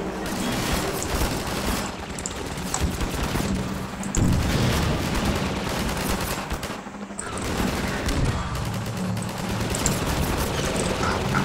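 Dense, continuous gunfire and booming explosions fill the soundscape in the video game Half-Life 2, with one heavier blast partway through as an explosive barrel blows up amid the chaotic battle noise.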